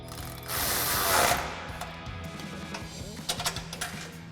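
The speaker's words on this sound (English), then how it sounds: "I'm gonna grab a 13mm swivel socket and come from the outside and tighten this up." A 13mm swivel socket ratchets a clamp bolt tight on the exhaust of a 2022-2023 Toyota Tundra, giving a close, steady run of mechanical clicking with small bursts of metal contact near the end.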